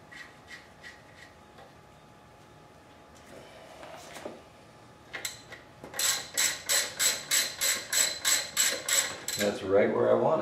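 Torque wrench tightening the front sprocket nut on a Suzuki V-Strom motorcycle, a few faint clicks followed by a long run of loud, even ratcheting bursts, close up.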